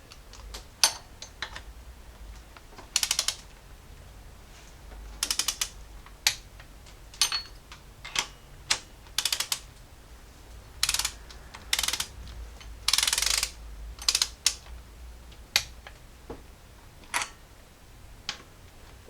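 A torque wrench clicks sharply while tightening camshaft bolts on a Jeep Cherokee XJ 4.0L engine, a series of scattered single and doubled clicks over a quiet garage background.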